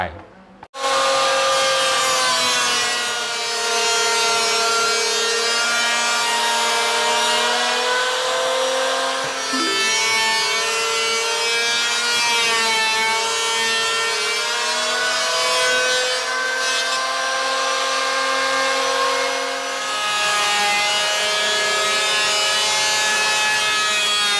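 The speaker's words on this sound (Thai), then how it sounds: "ยัดเข้าเครื่องรีดหรือว่าเพลนเนอร์ไปเลยก็ได้นะครับ" A loud machine drones steadily for the whole stretch, a harsh buzzing whine of wood being fed through a planer without pause.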